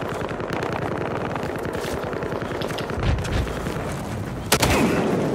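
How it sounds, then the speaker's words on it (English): Gunfire in the video game Battlefield Hardline, with a dense rattle of shots throughout and a louder close blast near the end, including shotgun fire. "That was a shotgun."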